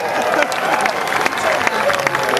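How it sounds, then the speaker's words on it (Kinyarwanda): A live comedy audience applauds, a steady wash of clapping with murmured crowd noise and a voice over it, sustained and fairly close throughout the short burst. "ikinyarwanda cyacu ndashaka ko mugikomera amashyi"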